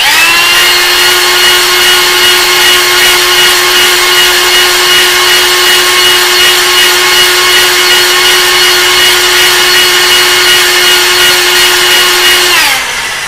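Cylinder hone spinning at high RPM inside a small block engine bore, a loud steady whine with bright tonal harmonics held continuously for about twelve seconds before winding down at the end.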